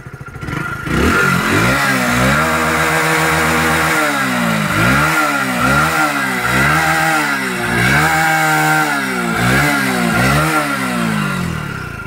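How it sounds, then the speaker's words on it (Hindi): Hero HF Deluxe BS6 2022 commuter motorcycle exhaust, loud and close, with repeated revving swells over a steady idle putter and a faint ticking clatter, no talk. "इसका एग्जॉस्ट का साउंड सुन लो आप लोग एक बार ही"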